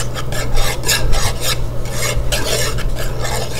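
A whisk stirs a cold mixture in a bowl in quick, rhythmic scraping rasps, loud and close, continuing steadily with no voices.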